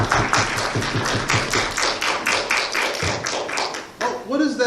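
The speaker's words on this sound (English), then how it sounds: "I hear somebody knocking over there on the door." Repeated knocking on a door, a steady run of close, firm taps in quick rhythm, followed briefly by a voice.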